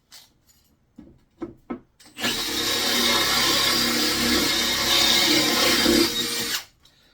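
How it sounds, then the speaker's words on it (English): A few light knocks and clicks, then a Milwaukee M18 cordless combi drill whirs loudly and steadily for about four seconds before stopping abruptly, building a wooden sparrow nest box. "And this drill is the new Milwaukee M18 FBG3."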